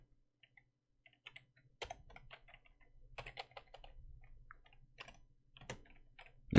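Keys clatter on a computer keyboard in short irregular bursts of quick, light clicks with brief pauses between, close and fairly quiet, and no talking.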